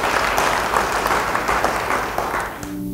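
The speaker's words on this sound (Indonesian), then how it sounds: "Beri tepuk tangan yang baik bagi dia." A church congregation gives a sustained round of applause, dense and even clapping that carries on for several seconds before tapering off as a voice begins.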